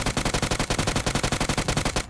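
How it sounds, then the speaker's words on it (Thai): Rapid sustained automatic gunfire in PUBG Mobile, a steady burst of evenly spaced shots lasting about two seconds, loud and close with no talking over it. "เสียงปืนดังแบบนี้"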